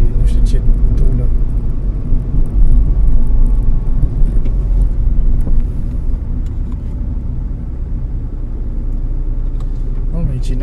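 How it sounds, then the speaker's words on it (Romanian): Loud car engines rumble at a shop parking area in a deep, continuous low drone that eases slightly partway through, with voices heard faintly under the noise. "Motoarele astea că te sperii, nu știu ce tună."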